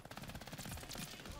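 Submachine gun in Call of Duty: Vanguard firing a rapid, high-recoil burst from a 20-round magazine, a quick run of shots that sounds somewhat muffled and distant at low level.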